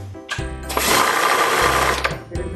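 A sewing machine stitches ladies' suit fabric in one loud, steady mechanical whir of about a second and a half, with short quieter motor hums before and after it.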